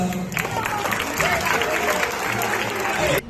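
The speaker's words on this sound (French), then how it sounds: "Oui, vraiment, les gens applaudissent plus que ça." Clapping from a small group of people in a school setting, loud and close, with voices mixed in, cutting off abruptly near the end.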